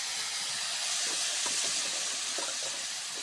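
Water poured into a hot pan while cooking cauliflower curry gives a loud, continuous sizzling hiss of steam throughout, with faint crackles and pops underneath.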